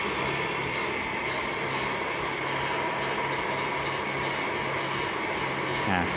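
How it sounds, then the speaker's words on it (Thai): The cooling fan of a SUOER 1000VA grid-tie inverter runs loudly on a workbench, giving a steady, broadband whirring hum that keeps the same level from start to finish. "ตัวพัดลม ตอนทำงานแรกๆ เสียงดังหน่อยนึงนะฮะ แต่สักพักก็จะเงียบ"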